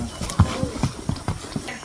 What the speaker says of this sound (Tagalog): Naku, kawawa naman yung kabayo.